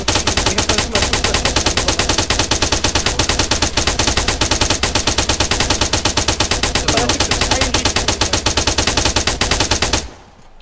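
Rapid, sustained machine-gun fire in the video game Arma 3 rattles loudly and continuously for about ten seconds, then cuts off abruptly into quiet.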